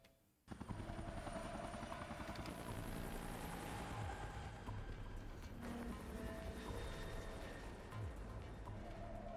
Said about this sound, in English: The helicopter go woo.